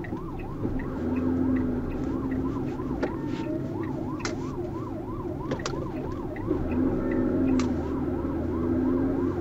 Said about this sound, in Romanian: ce mă sperie ambulanța aia